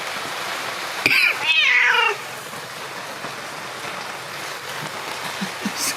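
A friendly black cat at a rainy campsite gives one clear, drawn-out meow close by, then falls quiet against a steady hiss of rain with a few soft knocks.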